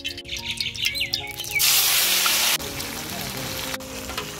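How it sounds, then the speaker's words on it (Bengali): Hilsa fish going into hot oil in a wok: a sudden loud burst of hissing sizzle that settles into a steadier spitting fry, with faint birds chirping in the background before it. "তেল গরম হয়ে গেছে, এখন মাছ দিয়ে দিব।"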